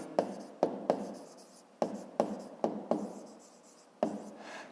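A pen writes in a school exercise book, heard close up as a series of short scratchy strokes with sharp starts and brief pauses between them, alone with no talk.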